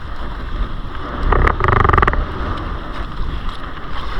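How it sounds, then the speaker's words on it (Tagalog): Gusty wind buffets the microphone over a steady wash of sea waves while lobster net fishing, with a brief creaking knock in the middle; no voices. "Tapos lumakas pa yung hangin at alon."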